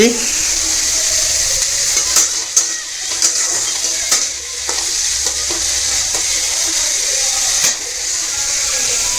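Pieces of fish sizzle steadily on a hot tawa, a close, continuous frying hiss broken by a few sharp spatters and stirring clicks, with no talking.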